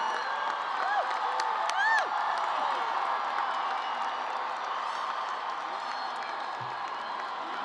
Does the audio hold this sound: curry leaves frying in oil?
no